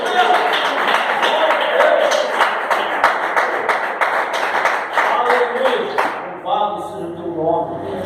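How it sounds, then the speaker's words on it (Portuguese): A Pentecostal church congregation in the Serra neighbourhood claps together in a dense, steady wash of applause for about six seconds before it fades and a voice begins speaking. "Só você que aplaude o Deus poderoso."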